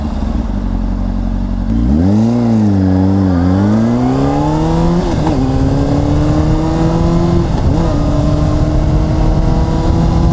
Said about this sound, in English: I'm going to practice engine braking again.